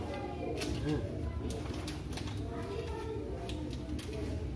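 Pigeons or doves coo softly in a home kitchen while cooking goes on, with low household background noise and a brief murmur from a person.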